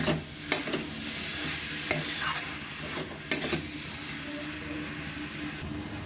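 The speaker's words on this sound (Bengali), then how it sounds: "আবার মশলার সাথে বাঁধাকপিটা এবার ভালো করে আবার কষবো।" Cabbage stir-fried with spices in a pan: a continuous sizzle broken by three sharp scraping strokes of a spatula, close and fairly loud.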